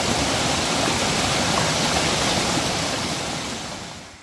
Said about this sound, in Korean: 중간에 이렇게 계곡물을 만났습니다. 물소리 들으니까 너무 좋네요.